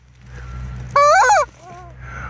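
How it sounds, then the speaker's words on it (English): A rubber chicken prop squeezed once, giving a loud, strained honking squawk of about half a second that stands out clearly above a low background hum, with no one talking over it. "it's Cluck, my rubber chicken. He was a prop"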